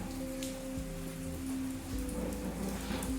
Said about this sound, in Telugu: ఆ రాళ్ళ మధ్యలో నుంచి వర్షం చుక్కలు పడి డైరెక్ట్ ఇక్కడ వినాయకుడి విగ్రహం మీద పడుతుంది